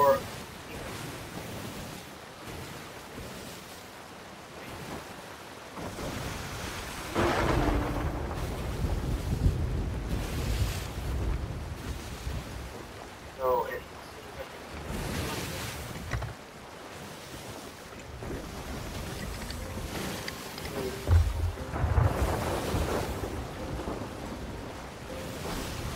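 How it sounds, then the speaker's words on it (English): Rain and a thunderstorm at sea in Sea of Thieves, heard aboard a sloop: steady rushing wind and rain with swelling surges of water and deep rumbling bursts, continuous throughout with no talking. "rain can kind of fill up the ship"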